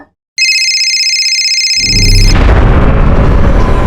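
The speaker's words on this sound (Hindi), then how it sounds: "फोन का आवाज किधर से आ रहा है?" A loud electronic phone ringtone sounds for a couple of seconds, then a heavy rumbling roar breaks in and overwhelms it.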